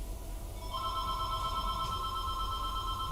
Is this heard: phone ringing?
yes